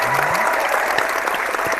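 Steady applause fills the short span, dense and even from start to end, with a brief low tone near the start.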